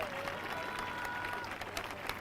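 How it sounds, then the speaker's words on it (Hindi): Worshippers at an evening church healing meeting clap their hands in brief, scattered applause, faint and somewhat distant, with sustained musical tones in the background. "जो बेटा और बेटी है वो ताली बजाकर धन्यवाद कर रहे हैं।"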